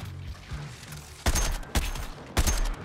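Long-range gunshots ring out in the video game Suicide Squad Kills the Justice League. Three loud, sharp cracks land about half a second apart, each followed by a short booming tail, over a low game background.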